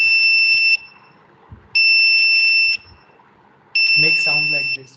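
A buzzer wired to a microcontroller output sounds three loud, steady beeps of about a second each, evenly spaced by roughly a second of quiet, with a voice briefly talking under the last beep.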